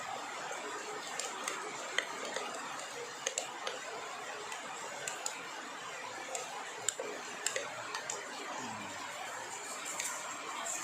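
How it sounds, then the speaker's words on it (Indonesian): A reacting chemical mixture is stirred in a container during gold recovery from phone, RAM and hard-disk electronics, giving soft continuous fizzing with light scattered clicks and taps, quiet and close. "Nah, aduk-aduk lagi."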